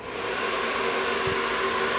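A Remington professional hair dryer running steadily, blowing hot air with a loud, constant whooshing roar and a faint whine, heard alone without talk.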